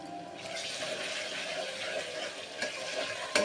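Ginger garlic paste and chopped green chilies fry in a pan for a Telugu broad bean curry, giving a steady, close sizzle throughout with no talking.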